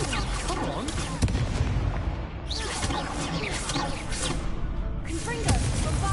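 Confringo and Bombarda spells in Hogwarts Legacy burst as a rapid barrage of loud explosive blasts and whooshes, tightly overlapping and dense through the whole stretch.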